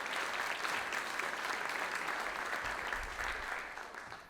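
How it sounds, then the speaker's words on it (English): A lecture audience at a university presidential center applauds steadily for a few seconds, a fairly faint, even wash of clapping that tapers off toward the end. "Let's give Alice a big round of applause."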